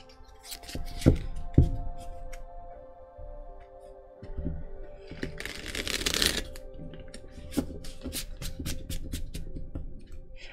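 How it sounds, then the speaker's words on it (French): A brand-new tarot deck of flexible, high-quality cards is shuffled at length, with repeated crisp riffles and flutters, close and fairly loud, followed by softer handling and taps. "je vais les battre un petit moment parce que le jeu est neuf là"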